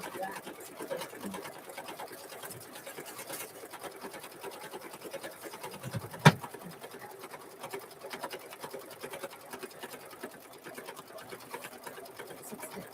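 A home sewing machine stitches out a mug rug embroidery design, a steady close mechanical whir with rapid needle ticking that runs throughout, broken by a single sharp click midway.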